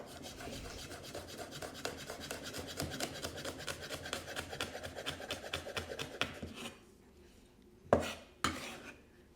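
A kitchen knife chops chili finely on a board in a quick run of regular, close taps that stops after about six seconds, followed by two sharper knocks of the knife.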